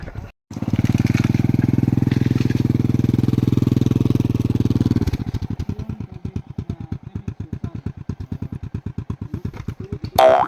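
A Honda Click motorcycle engine running close by outdoors, a steady loud drone for several seconds that drops into a rhythmic, chugging idle pulse before a brief sharp noise at the end.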